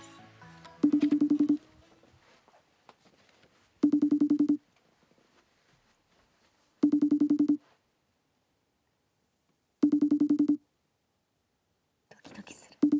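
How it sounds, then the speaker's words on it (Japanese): A phone call's ringback tone repeats four times at regular intervals, each ring lasting under a second with quiet gaps between, followed by a voice as the call connects; soft whispering is heard before the rings. "電話していきたいと思います。"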